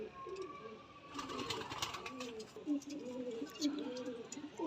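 Pet pigeons kept for flying coo softly and repeatedly at close range, with someone talking over them throughout.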